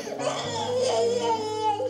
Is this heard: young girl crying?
yes